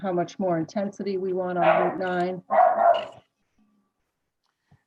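A house dog barks during an online committee meeting, with several quick barks mixed in with a person speaking, then silence.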